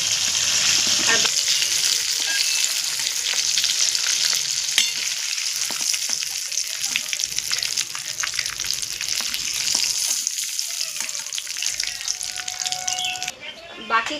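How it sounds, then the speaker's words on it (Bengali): Chicken pieces frying in a pan for chicken changezi, a loud, steady sizzle that runs unbroken for the whole stretch, close and dominant with no voices over it. "বাকি চিকেনগুলো আমি এভাবেই ভেজে নেব।"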